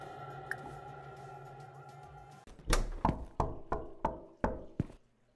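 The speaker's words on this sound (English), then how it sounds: "Is someone fucking knocking?" Knocking on a door in a horror video game on a rainy night: after a faint sharp tap, a steady, hollow series of about seven heavy thuds sounds close and loud, evenly spaced and fading between blows.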